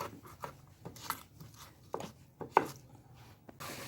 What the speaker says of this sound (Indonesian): kemudian kita ulek hingga halus